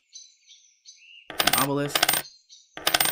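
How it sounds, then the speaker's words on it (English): Coin collection in a video game: bright metallic chimes ring out loudly after soft chirping tones, with a second chime near the end. "Oh, more coins, yes."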